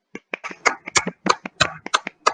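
A handful of people on a casual podcast clap for Haikal after his scary story, about a dozen distinct, close hand claps in a loose, uneven rhythm that quickly trails off.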